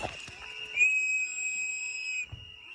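Protesters blow a sharp, steady whistle held for over a second, sounding loud and close, with short bursts of other whistles and brief noise around it, warning others that ICE agents are nearby.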